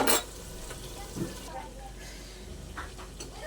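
Ground turmeric, chili, coriander and cumin are sautéed and stirred in a pan for vegetarian khichuri, giving a soft sizzle with scraping spoon strokes against the pan; a voice talks faintly underneath.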